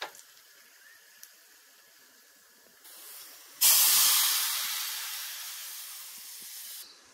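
Spices for a snake gourd kootu tempering, with turmeric powder and dried red chillies, hit hot oil in a pan. After a faint start comes a sudden loud, bright sizzle and hiss that slowly eases off.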